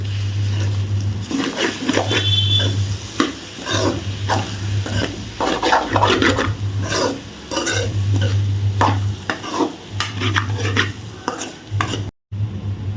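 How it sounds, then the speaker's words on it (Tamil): A spatula scrapes and stirs carrot and egg stir-fry (poriyal) in a pan, repeated rhythmic scraping strokes with faint sizzling, close and loud, over a low steady hum that cuts in and out. "இந்த எல்லா கேரட்லேயுமே இந்த முட்டை வந்து படுற மாதிரி நல்லா மிக்ஸ் பண்ணி விடுங்க."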